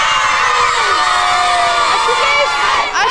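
A loud, dense crowd of schoolchildren cheers and shouts for the winning team at a televised kids' quiz show, a continuous roar of high-pitched whoops and yells close up.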